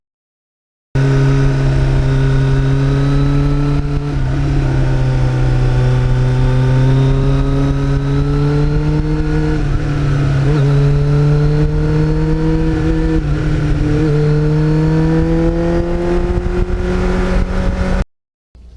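A 1989 Kawasaki GPX750R motorcycle fitted with a Muzzy muffler revs steadily for about seventeen seconds, loud and close, its pitch rising and falling slightly before cutting off abruptly.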